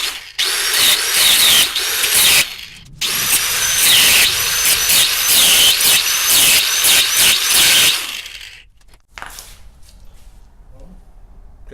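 Loud, harsh power-tool cutting into steel rivets on a 1976 Ford F150 during teardown, a steady grinding whine for about eight seconds with brief breaks, then stopping, leaving a quieter workshop.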